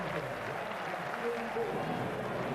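Crowd applause at a 2001 England v Australia one-day cricket match in Bristol, greeting Ricky Ponting's century; a steady, dense wash of clapping from a large crowd fills the whole stretch, with a voice briefly audible over it.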